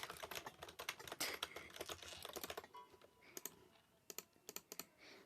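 Quiet, rapid keyboard typing: a dense burst of key clicks, a brief pause, then scattered, slower taps, close and alone.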